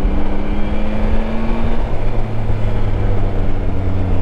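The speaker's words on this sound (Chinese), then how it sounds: "这个声音太给力了，这个声浪是给力啊，这个加速的时候，这个声浪是非常给力了啊" A Yamaha Tracer 9 GT motorcycle engine roars steadily under acceleration, a loud, continuous droning growl with rising tonal hum, heard up close without talk.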